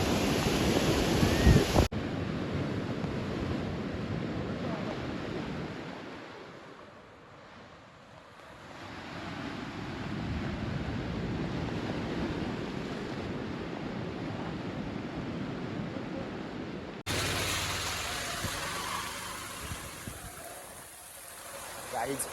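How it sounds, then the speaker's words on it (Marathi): Rushing floodwater from the overflowing Bhasta dam in Shahapur, Thane, a broad continuous roar with wind buffeting the microphone, dipping briefly midway and turning harsher near the end. "हा भास्ता डॅम पूर्ण ओव्हरफ्लो झाला आहे आणि हा पाणी बघा"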